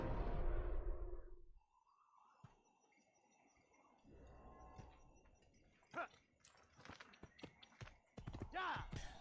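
Horse hooves clip-clop on hard ground in Assassin's Creed, in an irregular patter, mixed with game sound effects and a brief low rumble at the start.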